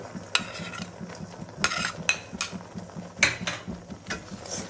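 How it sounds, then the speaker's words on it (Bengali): A spoon stirs mustard paste into a pan of achar, scraping and clinking against the metal in an uneven rhythm with several sharper knocks, close and with no voices. "তারপর সুন্দর করে লাড়া দিবেন যেন নিচে না লেগে যায়"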